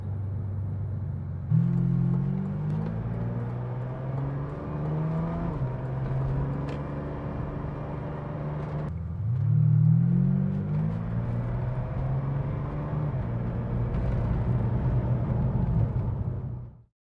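Ferrari 456 on a road test drive after a major service, its engine droning steadily from inside the car with two clear revving surges as it accelerates through the gears, loud and continuous with no talk.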